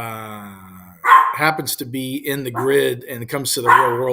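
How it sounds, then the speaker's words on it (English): A dog barks and yips repeatedly in short bursts indoors, loud and close, mixed with someone talking over it. "be quiet, that's my dog"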